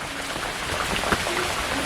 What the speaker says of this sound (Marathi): पाऊस म्हणजे काय थांबतच नाही तो पडतोय एवढा पडतोय